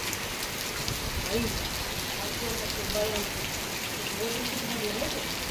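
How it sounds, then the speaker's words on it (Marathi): Heavy rain pours in a steady, dense hiss that fills the whole clip. A voice murmurs faintly beneath it. "बघा किती पाऊस चालू आहे ते"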